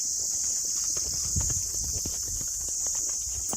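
Horse hooves clip-clopping at a walk on a jungle trail in Himachal, a soft irregular patter of footfalls under a steady high-pitched insect drone, with no talk.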